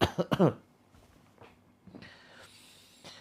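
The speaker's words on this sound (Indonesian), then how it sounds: "Lalu batuk-batukan" A few forceful, deliberate coughs burst out up close at the start of a therapy session, followed by quiet breathy throat sounds and a soft hiss.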